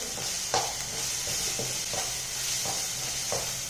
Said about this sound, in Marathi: आता यालाही मस्त असं मिक्स करून घ्यायचं आहे.